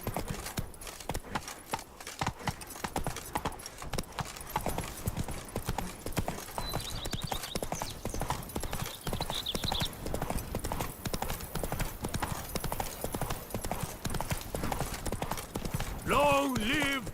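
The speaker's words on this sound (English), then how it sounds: "Even a horse drops if you ride it at a constant gallop." In The Witcher 3, a horse gallops with fast, continuous rhythmic hoofbeats that run steadily throughout, with a short whinny near the end. A voice speaks over part of it.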